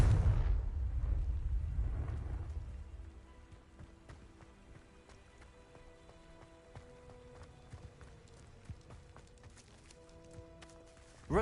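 A Confringo blasting curse exploding in the Hogwarts Legacy game, a loud, booming blast at the start that rumbles and fades over about three seconds, leaving quiet scattered clicks and soft steps afterward.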